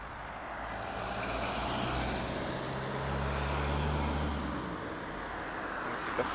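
A bus pulling in toward a stop beside a crosswalk on a walk; a low, distant engine rumble grows and settles, with steady traffic noise around and no voices.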